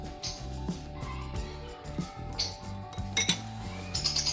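Spoon repeatedly clinking and scraping against a bowl while pickle spices are stirred with oil, a quiet, rhythmic series of light metallic taps and rubs close by.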